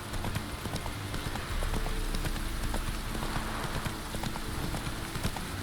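Horse hooves clip-clop at a steady walking pace on the ground in the video game The Witcher 3. A soft rain-like hiss sits under the hoofbeats, which stay fairly close and moderately loud.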